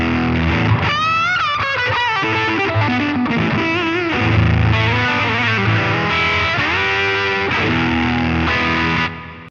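Electric guitar driven through an MXR Timmy overdrive pedal set to clipping position 3, a loud, saturated, near-fuzzy tone with busy riffing and sustained chords played steadily without pause.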